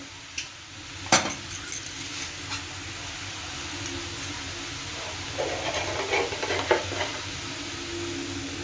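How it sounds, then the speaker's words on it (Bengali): Oil goes into a hot pan while cooking a Bengali bottle gourd and green jackfruit mash, giving a steady close sizzling hiss. A sharp metallic clink comes early, then light scraping and stirring sounds, with no talking. "এবার আমি একটু তেল দেবো।"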